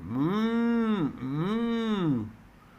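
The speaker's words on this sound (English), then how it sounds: "from a distance, one could hear the cows mooing" Cows moo in two long, drawn-out calls, one after another, fairly clear and alone with no other sounds around them.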